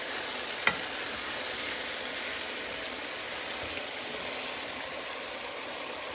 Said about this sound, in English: Now, I want to saute my vegetables